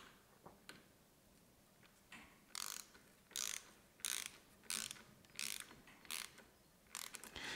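Torque wrench set to 6 Nm clicking through the ratchet while tightening the two stem bolts on a bicycle, a series of close, sharp bursts of clicking at a fairly regular pace in a quiet room.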